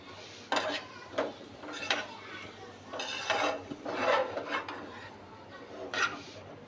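A spatula scrapes and stirs fried vegetables and chopped tomato in a pan for white sauce chicken pasta, making repeated close, rhythmic scraping strokes with short gaps between them.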